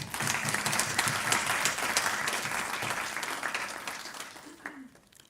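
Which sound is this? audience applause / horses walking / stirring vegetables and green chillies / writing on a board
audience applause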